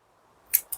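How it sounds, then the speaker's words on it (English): Decent scissors snipping small pieces of watering tubing, two quick separate cuts close up in a quiet greenhouse setting. "make sure you got some decent scissors, and then cut a number of small pieces of the tubing."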